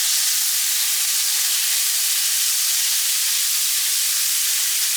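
Garlic sizzles in a hot pan as liquid deglazes it, a steady, close, bright hiss of frying with no pauses, running on alone without any talk.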